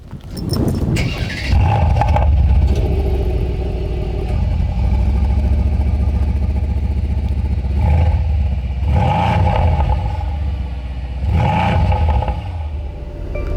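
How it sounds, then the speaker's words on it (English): A 2021 Mercedes-Benz C63 S AMG V8 engine turns over and catches, settling into a deep, throaty idle with a few loud revs rising and falling later on. "let's start it up because there's some cool features on this. Okay, start up the vehicle."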